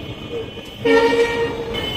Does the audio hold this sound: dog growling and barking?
no